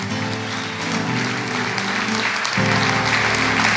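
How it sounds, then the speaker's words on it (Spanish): A church congregation applauds during a service in a loud, continuous wash of clapping. Sustained tones from instruments or a PA sit beneath it, with a shift in the accompaniment partway through. "Démosle un aplauso al Señor."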